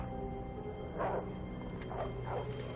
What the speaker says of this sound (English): They hear what sounds like a wolf barking in the distance.